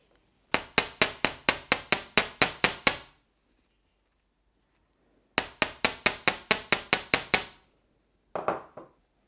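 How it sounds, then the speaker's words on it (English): A chasing hammer strikes a flattened metal jewelry clasp loop in two quick runs of about ten sharp, ringing taps each, with a brief faint clink at the end. "I'm just going to hammer it with my chasing hammer again"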